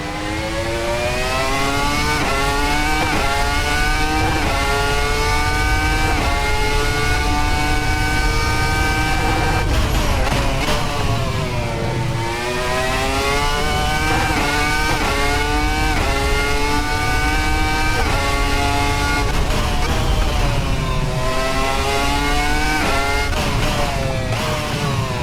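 Red Bull RB1 Formula 1 car with a V10 engine in the Assetto Corsa racing game, screaming loudly through repeated upshifts and downshifts, pitch climbing and dropping in long sweeps for the whole stretch.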